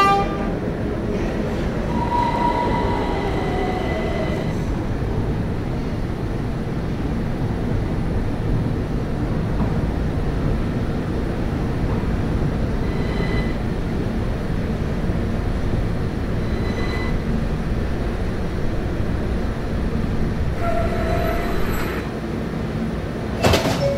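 Subway train in the Roblox game PTA Subway running steadily on the Q Express line, a continuous low rumble of wheels and motors throughout with faint higher tones from doors and brakes near the start and end, no talking.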